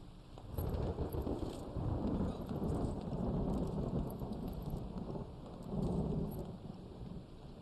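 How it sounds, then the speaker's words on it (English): A video game thunderstorm with steady rain and repeated rolling thunder swells, heard alone at moderate distance. "Okay, wait for the thunder."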